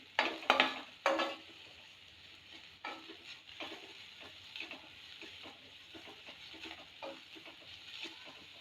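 Ginger-garlic paste frying in a pan of prawn masala, with a continuous soft sizzle under a few sharp spoon-against-pan clatters near the start and lighter stirring scrapes through the rest, close by.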